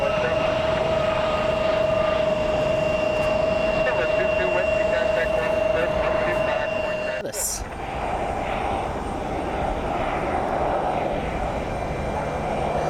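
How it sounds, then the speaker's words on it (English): A private jet arriving at Columbus John Glenn airport from Lincoln, Nebraska, makes a loud, steady roar with a high whine tone that cuts out partway through, while a person talks over it. "private jet that's coming in from Lincoln, Nebraska"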